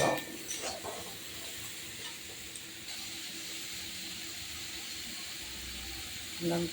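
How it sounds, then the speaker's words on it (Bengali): Fried snake gourd being stirred in a pan for a shrimp dish, a soft hissing sizzle with faint scraping, quiet and close, with brief louder clatter at the start and end. "এই যে কেটে ভেজে রাখা চিচিঙ্গেগুলো এবার নেড়ে চেড়ে নেব"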